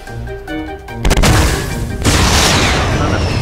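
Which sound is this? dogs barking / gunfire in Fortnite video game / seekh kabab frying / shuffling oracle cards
gunfire in Fortnite video game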